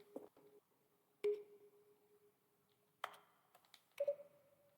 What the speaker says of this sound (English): a selection of sounds used throughout the game when the buttons are pressed